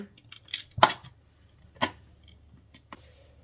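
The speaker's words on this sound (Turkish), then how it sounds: "Bir yemek kaşığı kadar da mayonez ekledim." A tablespoon of mayonnaise is added to Cretan sun-dried tomato meze: a few close, crisp clinks of a spoon against a dish, spaced apart with quiet in between and no talking.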